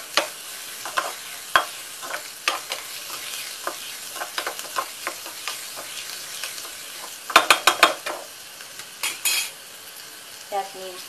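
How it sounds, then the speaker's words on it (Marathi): Onion frying in a pan while being stirred, a soft steady sizzle broken by repeated clinks and scrapes of a spoon against the pan, with bursts of quick knocks near the end and no talking. "कांदा आपण छान भाजून घ्यायचे।"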